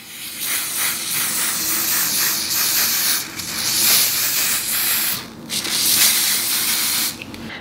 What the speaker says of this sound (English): we're gonna spray one more time